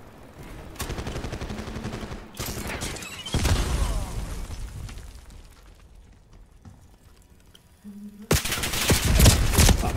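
Gunfire from a sluggish machine gun in the video game Call of Duty Black Ops 6 comes in loud, dense bursts separated by brief gaps, with other battle noise in between.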